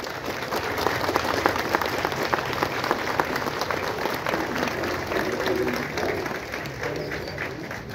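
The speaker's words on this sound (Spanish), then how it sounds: "Le damos un fuerte aplauso a estos hermanos" Dense, steady clapping from a crowd gathered at a Corpus Christi Thursday religious procession at a hermitage in Tultepec, Mexico, continuous and fairly loud throughout.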